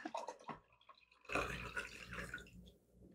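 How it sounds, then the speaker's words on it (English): Liquid is poured into a container, starting with a few faint drips and splashes, then a steadier, louder pouring stream that continues to the end, close by with no talking. "Just pausing for you to pour."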